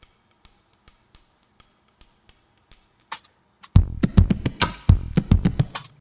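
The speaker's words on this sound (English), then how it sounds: "taking a screwdriver and smacking it against the metal part of this tuning hammer" Sharp metallic clinks from a screwdriver smacking the metal part of a piano tuning hammer, first as faint, evenly spaced ticks and then as a louder, quicker run of ringing strikes.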